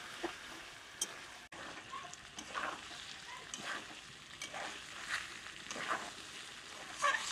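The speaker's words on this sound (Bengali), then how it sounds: "এবার মিশরটা ভালোভাবে কষিয়ে নেবো" Spice paste for vegetarian jackfruit biryani fries in a pan, a soft continuous sizzle with intermittent scraping strokes of a stirring spoon, fairly quiet and close, no talking.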